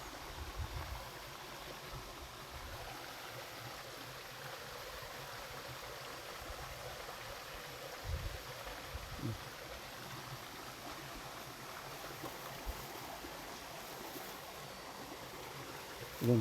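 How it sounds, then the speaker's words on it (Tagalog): River water flows steadily at a distance, a faint continuous rushing wash with a few soft knocks and no talk. "Yun, dito na kami sa ilog."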